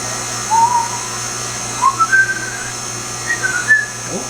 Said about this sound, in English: Oh, sorry, whistling.